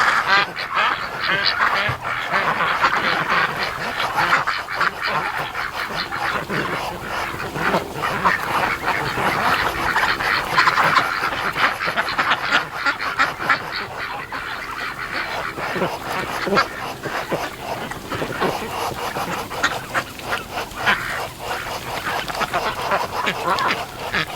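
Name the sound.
breeding duck calling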